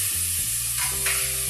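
Butter sizzles as it hits a hot pan already holding a little oil, a loud close frying hiss with a faint scrape and no voices.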